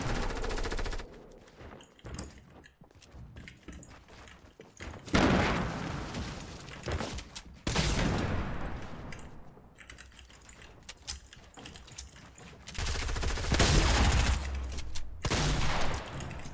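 Rapid bursts of automatic gunfire in a Fortnite Risky Reels match, loud and close, arrive in repeated volleys over about sixteen seconds, with clicking keyboard and mouse taps between the volleys.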